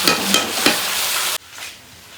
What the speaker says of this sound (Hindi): अभी यहाँ पे देख रहे हैं प्याज हो रहा है फ्राई धीरे धीरे